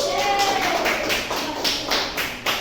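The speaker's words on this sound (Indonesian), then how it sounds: "Oke, tepuk tangan buat Resti" A small group claps steadily in a room, a dense patter of hand claps continuing throughout.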